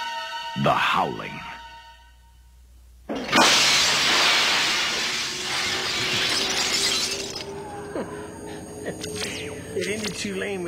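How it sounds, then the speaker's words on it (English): Glass shatters loudly in a trailer for the 1980s horror film The Howling, a long bright crash that hisses on for several seconds after a quieter, voiced opening, with voices and rumbling sounds returning afterward. "But they do break the glass on her"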